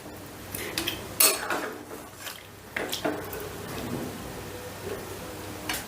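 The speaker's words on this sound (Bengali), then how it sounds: "এবারে কেওড়ার জলটা দিয়েও একটু মিশিয়ে দিচ্ছি।" Kewra water is stirred into chicken korma in a pot, with a metal spoon clinking and scraping against the sides in a few sharp knocks between softer, wet stirring sounds. No one speaks.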